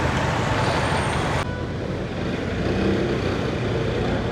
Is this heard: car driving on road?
yes